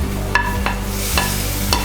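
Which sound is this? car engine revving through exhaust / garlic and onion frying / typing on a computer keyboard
garlic and onion frying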